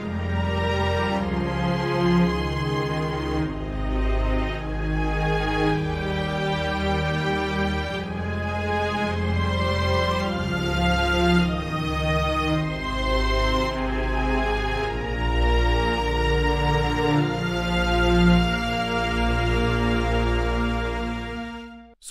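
An orchestral string section plays a slow chord progression for a woodwinds cue, with violins sustaining full chords over a low bass line, rich, steady and loud, with no talking.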